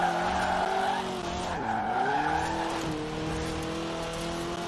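A car drifts in Forza Horizon 4, its tires skidding and squealing in sustained, wavering screeches over a steady engine drone, loud and continuous throughout.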